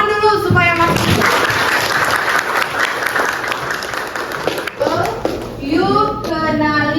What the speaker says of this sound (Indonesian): Sebelumnya kita tepuk tangan dulu supaya masuk.